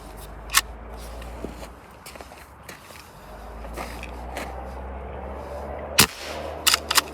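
Hatsan Vectis air rifle firing JSB Kings pellets: a handful of sharp, close cracks spaced irregularly over a low background hum, with one isolated shot early and a quick cluster of three near the end.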